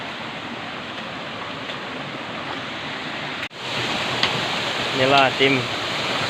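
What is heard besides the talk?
two-tier waterfall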